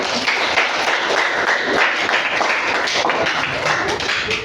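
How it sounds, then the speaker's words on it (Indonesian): A classroom of students claps together in a steady, busy wash of applause that lasts for several seconds without a break, with some faint voices mixed in. "Oke, aplaus buat kita semua ya."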